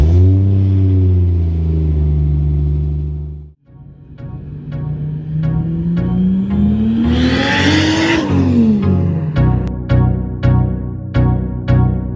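A car engine revs and accelerates up through the gears, loud and close, with a brief drop before climbing again and a few sharp shifts near the end.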